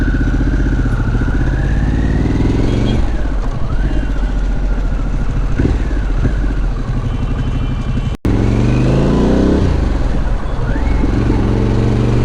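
A Harley-Davidson Pan America motorcycle pulls away on an evening road, its engine revving up and down through several rising gear sweeps, loud and close, with a brief cut partway through.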